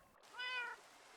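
A single short cat meow from a Minecraft cat, clear and fairly faint, heard alone over a quiet background.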